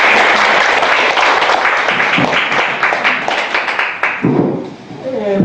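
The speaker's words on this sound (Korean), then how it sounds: "박수 한번 쳤어요" Audience applause closing a lecture on national parks, a loud burst of many hands clapping that continues steadily before thinning out and giving way to a voice near the end.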